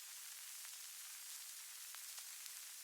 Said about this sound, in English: some crackle just to kind of set the mood a little bit,